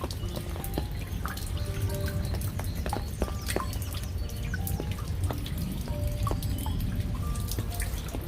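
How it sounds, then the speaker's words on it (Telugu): Water droplets fall in a rapid, continuous pattern of light taps and plinks over a steady wash of background noise, with no voices. "నీటి చినుకులు టపటపా పడ్డాయి."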